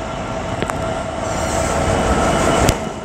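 A DB Cargo UK Class 66 diesel freight locomotive passes at Peterborough on the East Coast Main Line, giving a steady loud rumble of wheels and engine with a couple of sharp clanks, nearby and without voices.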